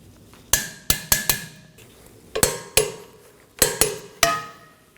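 Sharp metallic clicks from a torque wrench tightening rear brake caliper bolts to 74 foot-pounds on a 2019-2024 Chevrolet Equinox, about a dozen ringing taps in quick clusters, close and fairly loud with a short ring after each.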